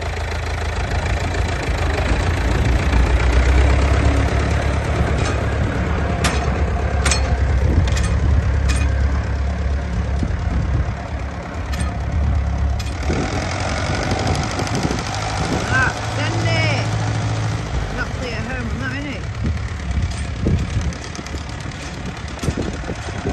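A vintage mid-1960s McCormick 414 farm tractor engine runs steadily with a low, lumpy idle and mechanical knocking throughout, while people talk nearby over it.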